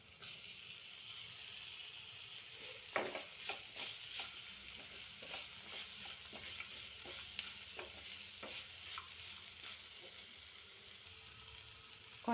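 Tomato pieces with salt and turmeric fry and get stirred in a hot pan for Andhra-style uggani, a steady close sizzle broken by repeated sharp scrapes and clacks of the spoon against the pan.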